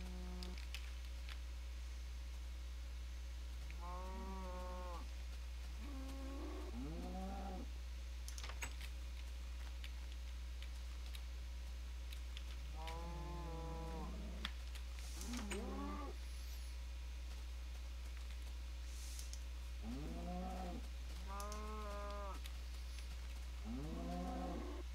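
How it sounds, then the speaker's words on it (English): Cows in the video game BarBaria moo in several drawn-out calls, some single and some in quick pairs, spread over a quiet backdrop with a steady low hum and occasional light clicks. "Another little baby cow."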